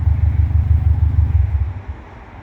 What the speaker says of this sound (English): the vehicle will shut off